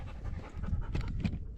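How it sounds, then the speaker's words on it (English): An excited dog pants rapidly and close by in short, breathy bursts at a lakeside campsite, with no talking over it. "The dog's getting a little excited here."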